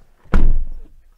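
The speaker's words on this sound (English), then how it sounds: "I get in, I shut the door" A car door on a 2022 Audi e-tron GT swings shut with a single solid, muffled thunk, close and loud, trailing off quickly into quiet.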